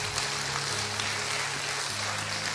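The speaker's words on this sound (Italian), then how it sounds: "vi chiedo di fare un ultimo applauso per i miei colleghi di lavoro" A theater audience claps for the amateur actors after a 2019 comedy performance, a dense, sustained round of applause over a low steady hum, with no speech.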